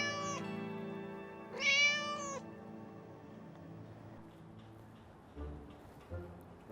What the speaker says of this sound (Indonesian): Kayak ada suara kucing.